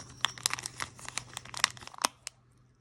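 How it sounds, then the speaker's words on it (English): Clear plastic packaging crinkles as it is opened near a brown Starbucks package, close by in quick scattered bursts of sharp rustling and crackling, with quiet gaps between. "Sorry for all the crinkling."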